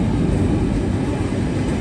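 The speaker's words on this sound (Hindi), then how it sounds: "तो guys the train has arrived." A train pulls into a station in the Swiss Alps with a steady, heavy rumble that fills the whole moment, close and continuous, with no voices over it.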